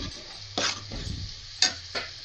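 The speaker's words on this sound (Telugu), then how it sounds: "బాగా వేపుకునండి ఇలాగా చక్కగా పచ్చివాసన పోయేదాకా వేపుకొని" Fish pieces fry with spices in a pan, a soft sizzle broken by a few brief stirring scrapes, close and fairly quiet.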